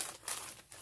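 A plastic baggie of cloth ribbons crinkles close up, a short, faint rustle of thin plastic with no voices.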